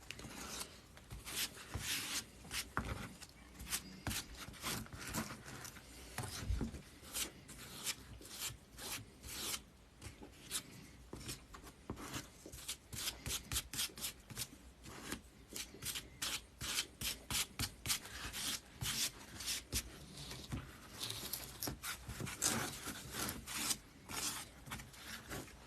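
Grout being scraped off stonework on a brew house, a continuous close rasping rub with dense, rapid strokes throughout, no talking.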